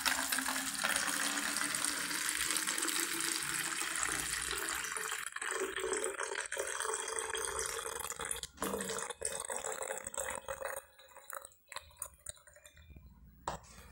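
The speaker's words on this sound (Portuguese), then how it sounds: "É só derramar a água total que está completa aqui nessa garrafinha" Water pours steadily from a small bottle, a continuous splashing stream that thins and breaks into trickles and drips near the end, heard close and alone.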